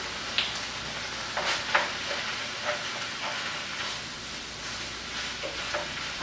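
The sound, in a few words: stirring empanada filling in pan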